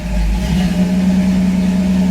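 A Pontiac Trans Am engine idles smoothly on new spark plugs, a steady low hum with a constant tone, close and fairly loud, with no talking.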